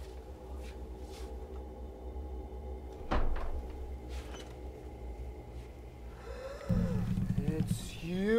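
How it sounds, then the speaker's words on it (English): A door in a quiet room is opened near the end of a short horror-comedy scene, a close creak and clatter after a single knock-like thud earlier, with background hum throughout. "Open the door."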